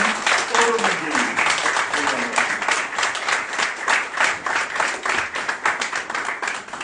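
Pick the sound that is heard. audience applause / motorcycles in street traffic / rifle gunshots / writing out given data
audience applause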